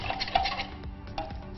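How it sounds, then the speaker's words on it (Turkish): A spoon stirs a pastrami salad mixture in a bowl, giving close, soft scraping and light clinking strokes in an uneven rhythm, with no talking. "İyice şöyle bir karıştır onu sadece."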